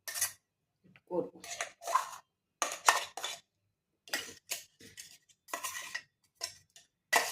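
Pea paratha filling being mixed in a bowl, with a series of short clinking, scraping bursts of utensil against dish separated by brief pauses, close and moderately loud, with no one speaking.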